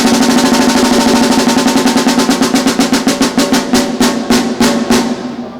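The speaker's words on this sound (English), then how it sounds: "That single stroke roll done straight up, just right, left, it sounds like this." A straight single stroke drum roll alternating right and left sticks, loud and close, a rapid, even stream of strokes that keeps going for several seconds before slightly thinning and fading at the end.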